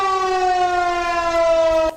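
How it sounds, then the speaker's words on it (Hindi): A civil defense warning siren in Pakistan wails a sustained, loud, steady tone with rich harmonics for two seconds, then cuts off abruptly. "पाकिस्तान में सायरन बज रहे थे"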